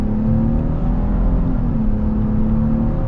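Interior engine hum and whir from a 2024 Chevy Blazer RS accelerating in sport mode, a steady, moderately loud drone with a faint rising tone across three seconds.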